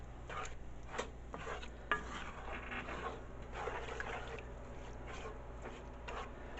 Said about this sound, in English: And just keep stirring it.